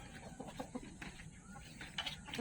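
Chickens cluck softly around feeding time, scattered short calls from several birds at close range over a low, faint background murmur.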